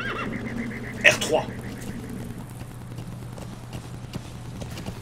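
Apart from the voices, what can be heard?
horse whinnying and galloping in video game Metal Gear Solid V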